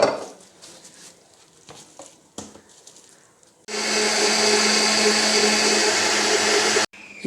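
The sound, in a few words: blender grinding yogurt and gram flour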